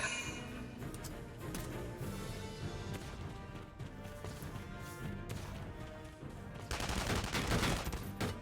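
Soldiers fire in a strategy video game, a fusillade of overlapping gunshots and sharp impacts crackling at moderate volume, swelling into a louder, denser volley near the end.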